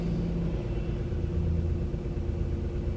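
A salvaged 2018 Vauxhall Corsa E with about 10,000 miles runs steadily with a low, even engine rumble, close and continuous with no voices over it.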